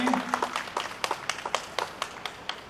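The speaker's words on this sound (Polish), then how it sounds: "oklaski." An outdoor audience claps at an open-air concert by the Ukrainian National Police orchestra, a run of sharp, fairly distant handclaps that settle into a rhythmic beat and fade a little over a few seconds.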